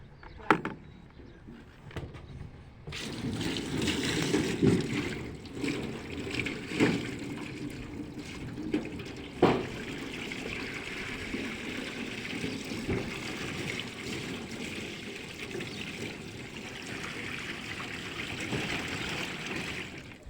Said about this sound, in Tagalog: tumapon yung tubig dito